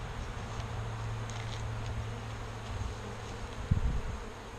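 Honey bees from a package being split three ways, a steady low droning buzz close by with a few louder passes near the end, no talking.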